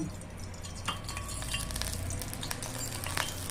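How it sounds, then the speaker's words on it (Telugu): Oil sizzles steadily in a hot pan while tempering for a tamarind-leaf and coconut chutney, a close, continuous frying hiss broken by a few faint utensil clinks. "కొంచెం నూనె వేస్తున్నాను."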